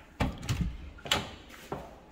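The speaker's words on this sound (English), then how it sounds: "let's open this door" Closet door in a two-bedroom apartment in Riverdale being opened indoors, with a few separate knocks and clatters spread across a couple of seconds, fairly quiet and close, with no talking.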